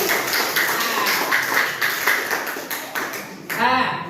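Students in a classroom applauding a presenting group, a brisk burst of many hands clapping at moderate loudness with some voices mixed in, tapering off near the end.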